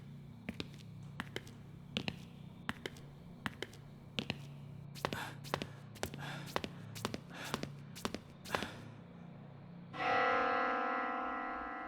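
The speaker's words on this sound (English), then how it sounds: "The bell again." Bell tolling in the video game Spirit Hunter: Death Mark II, sharp metallic strikes repeating at a slow, irregular pace over a low hum, ending in a sustained ringing tone.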